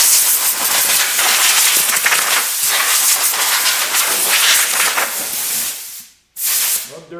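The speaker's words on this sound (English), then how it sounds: "Where's my blow nozzle?" A compressed air blow nozzle hisses loudly as it blows dust off a part in a workshop, a broad, continuous rushing blast that cuts off, pauses briefly, then gives one more short burst.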